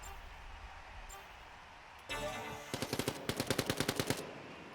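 Quake 1v1 duel gunfire: a sharp burst, then a fast rhythmic string of about a dozen loud, evenly spaced shots close up, with no voices.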